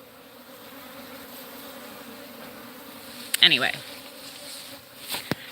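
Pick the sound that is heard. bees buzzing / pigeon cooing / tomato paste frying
bees buzzing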